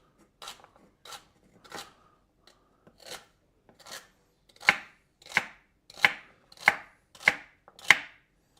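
Celery stalks being chopped with a knife on a cutting board, about a dozen crisp, snapping cuts in an uneven rhythm that grow louder toward the end, close and alone.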